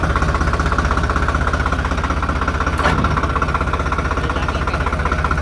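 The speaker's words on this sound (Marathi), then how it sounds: "आता आपला ट्रॅक्टर घेऊन आपण फनाटायला निघालो नाही का" A Swaraj tractor engine runs loud and close, a steady, heavy diesel chugging with an even rhythm throughout.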